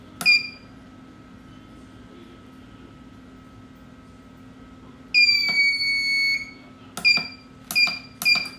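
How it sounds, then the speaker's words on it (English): A new Nurture Right 360 egg incubator sounds its temperature alarm: a sharp beep, a longer electronic tone, then three quick beeps, all clear and close over a steady low fan hum. "To disable the alarm, press the menu button once."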